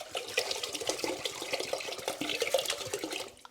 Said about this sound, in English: And then I'm going to add 1 liter of water.